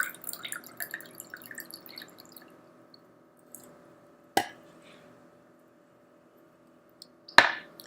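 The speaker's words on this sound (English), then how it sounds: "So I have my bubbly water, and I'm just going to pour in a little bit." Sparkling water poured into orange juice gives a faint, crackling fizz that fades over a few seconds, followed by two sharp, isolated drip-like splashes in an otherwise quiet room.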